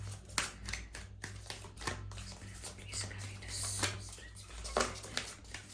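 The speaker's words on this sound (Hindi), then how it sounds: "शफल करते हैं।" Cards are shuffled repeatedly at close range, with quiet riffling and snapping bursts spread over several seconds against a low background hum, no talking.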